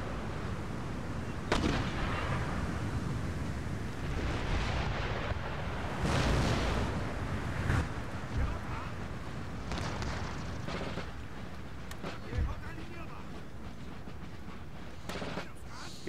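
Artillery and musket gunfire in the Empire Total War video game: distant rolling booms and scattered crackling volleys rumble continuously through a battle soundscape, with occasional sharper reports.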